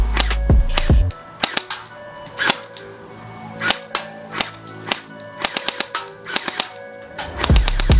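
Sharp, loud shots from a P90 gel blaster toy gun, fired in irregular single snaps and quick bursts of two or three, with no talk over them.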